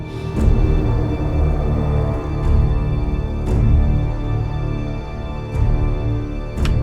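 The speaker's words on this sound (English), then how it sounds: "All the strings together sound like this." A full string section plays together in rich sustained chords, low and high parts blending, with a few soft accents marking the phrases.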